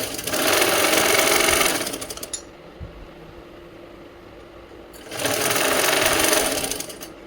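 A sewing machine stitches gathered puffed-sleeve fabric in two loud, steady motor runs, each about two seconds long, with a quiet pause between them.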